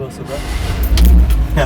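Engine of a 1957 Chevrolet Bel Air convertible starting, a brief low mechanical burst that swells near the end, with people talking over it.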